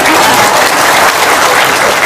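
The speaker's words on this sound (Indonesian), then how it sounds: "Tepuk tangan dong." A studio audience applauds loudly and steadily, the dense clapping continuing unbroken from start to finish with no voices over it.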